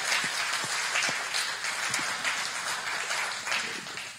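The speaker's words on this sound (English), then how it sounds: "let's give the Lord a great round of applause for the wonderful work the music team did today" A church congregation applauds the music team, a close, continuous patter of many hands clapping that stays fairly even and fades slightly toward the end.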